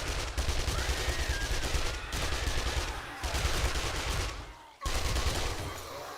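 An SMG submachine gun fires in 7 Days To Die in long sustained bursts of rapid gunfire, loud and close, broken by a few short pauses.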